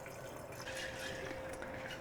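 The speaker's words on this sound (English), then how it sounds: "I'm going to go ahead and add some water to my jar." Water poured into a jar of sorghum grain being rinsed for sprouting, a quiet, steady trickle and splash of filling liquid that continues alone throughout, close but faint.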